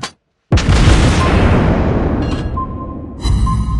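Torpedo explosions strike a ship in the naval battle game World of Warships: a sudden heavy boom after a short silence, then a long rumbling decay, with a second burst and tonal game alerts near the end.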